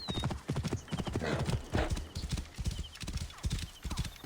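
Horse hooves clip-clop at a fast gallop in Assassin's Creed Origins, a steady rapid beat up close, with snorts and a whinny, under light game ambience.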